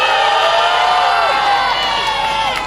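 A crowd at a political rally cheers and applauds loudly for a former mayor, with continuous shouting, whoops and clapping that fill the whole stretch and stay strong throughout.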